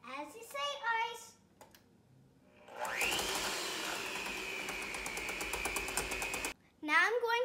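An electric mixer whirring steadily through thunder cake batter with added shortening, a loud continuous motor drone running for several seconds and stopping abruptly, with a voice and other talk before and after.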